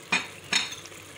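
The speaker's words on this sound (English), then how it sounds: "And we will cook it till the oil floats on the surface." Chickpea masala with spiced yogurt cooking in oil in a pan, giving two short bursts of sizzling and stirring close by, then a quieter steady simmer.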